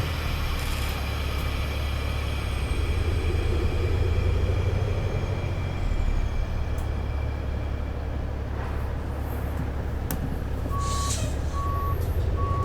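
A big rig manoeuvres in American Truck Simulator, its diesel rumbling and hissing with an air-brake release before evenly spaced reversing beeps start near the end.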